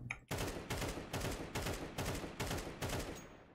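Rapid automatic gunfire from the video game CS2, six loud sustained bursts in steady succession with short gaps between them, close and dominant with no talking.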